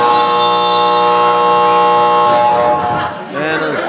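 At the end of a quarter in a local basketball game, the buzzer sounds as a loud, steady electronic blare for about three seconds, then fades into crowd noise and an announcer's voice.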